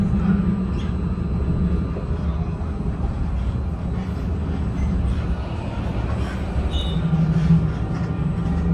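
Tram ride through Barcelona, with a steady low rumble of the rolling car and wheels on track, a continuous near drone of motion throughout and faint talk underneath.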